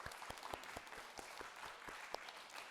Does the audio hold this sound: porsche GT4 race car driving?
no